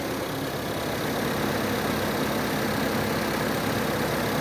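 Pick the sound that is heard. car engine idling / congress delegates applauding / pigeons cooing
car engine idling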